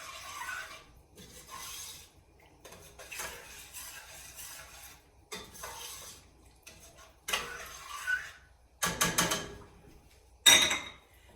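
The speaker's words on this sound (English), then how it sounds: "using my big spoon, I'm just gonna stir that meat right into the sauce" A big spoon stirs meat into a sauce in a pot, making irregular scraping and rubbing strokes separated by pauses, growing louder and sharper toward the end.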